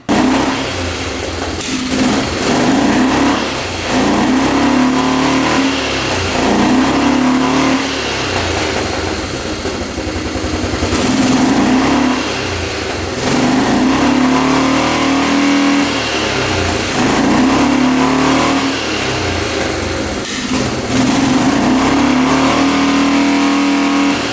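A small ATV engine, freshly adjusted carburetor float height, repeatedly revs up and drops back to idle, several loud throttle blips in a regular cycle, heard up close.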